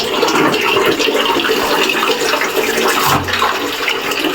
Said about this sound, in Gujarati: આ ભૂમિએ કપડાં ધોવાનું ચાલુ કરી દીધું છે